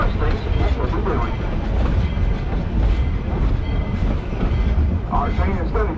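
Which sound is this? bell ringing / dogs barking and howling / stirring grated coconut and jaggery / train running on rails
train running on rails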